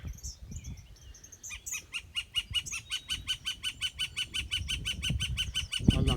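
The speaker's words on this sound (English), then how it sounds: "Some kind of bird making a noise." A bird calls in a long, rapid series of regular, repeated chirping notes near pear trees on a farm, fairly close, over faint rustling and low background noise.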